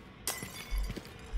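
A glass genie lamp shatters in the horror video game Amnesia: Rebirth, a sudden bright crash followed by a few scattered tinkling fragments, close and alone, with low thuds after.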